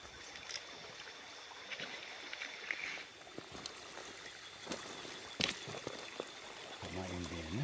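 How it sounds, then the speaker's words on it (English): Steady rushing of creek water in Okinawa, a broad continuous wash with a few brief clicks and knocks over it, fairly loud and close. "the creek's pretty loud"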